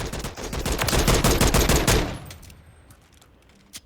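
Rapid automatic gunfire from a weapon in Call of Duty Modern Warfare III, a loud fast burst of close shots for about two seconds, then cutting off into a quiet tail.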